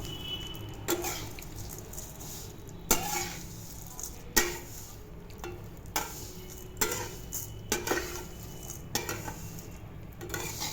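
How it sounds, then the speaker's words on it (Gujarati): Mango seed mukhwas roasting in ghee on a low flame, turned with a spatula: a soft frying hiss under repeated sharp scrapes and clinks of the spatula against the pan, about one every second. "હવે હળવે હાથે તવિતાની મદદથી હું આને ઉપર નીચે કરીશ અને ગેસની ફ્લેમ મેં એકદમ સ્લો રાખી છે"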